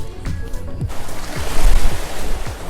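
Waves wash in and break close by on a sandy beach at Altın Kum, Çeşme, Turkey, a steady rush of surf with repeated swells and some wind noise across the microphone.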